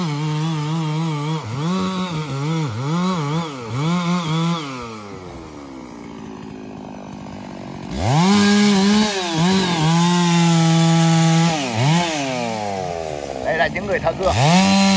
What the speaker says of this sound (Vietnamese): Những người thợ cưa.